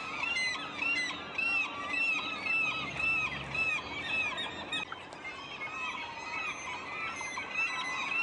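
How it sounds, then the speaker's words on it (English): A flock of gulls feasting on dead salmon along the Goldstream river, repeated shrill screeches and squeals in overlapping bursts, moderately close, over a soft background of running water. "The gulls were still screeching and feasting."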